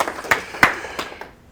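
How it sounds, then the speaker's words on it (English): Audience applause at a programming talk, a short burst of scattered claps with a few sharp, loud hand strikes spaced apart and fading toward the end. "I'll take the applause in advance"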